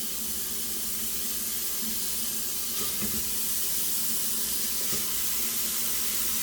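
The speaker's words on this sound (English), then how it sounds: "put our ground beef in here. Kind of break it up, put it in. And we're going to brown this off." Ground beef browning in a pan on a stove, a constant loud broadband sizzle with no breaks that keeps going throughout.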